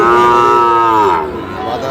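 A Sahiwal breed bull calf at a rural cattle market gives one loud, close, drawn-out moo that trails off into background noise.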